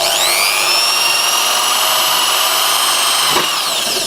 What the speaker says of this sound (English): I'm going to start drilling through this laminated wood